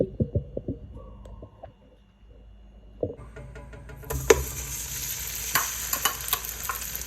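Chili paste for Thai beef green curry stir-fried in hot oil: a few close utensil knocks and scrapes, then a loud, bright sizzle that swells midway and continues with clattering stirring.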